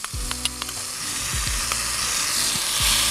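Garlic and ginger sizzle loudly in a very hot pan over a live-fire grill, a steady crackling hiss broken by a few sharp utensil knocks and scrapes against the pan.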